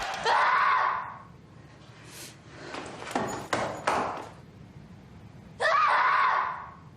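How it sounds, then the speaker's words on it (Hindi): A woman screams in frustration in a Korean drama: a long shrill scream, a stretch of quieter shrieks and sounds, then another loud scream near the end. "और फ्रस्ट्रेट होकर कुछ यूं चीखती है"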